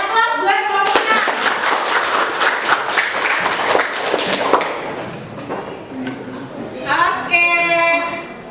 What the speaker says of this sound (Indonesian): Dan aplaus buat kelompok 6.